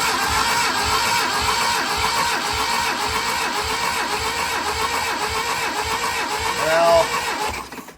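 The engine of a 1981 Dodge Challenger cranks over on the starter during a compression test, a long run of steady rhythmic chugging pulses, close and fairly loud, ending with a brief rising whine before it stops.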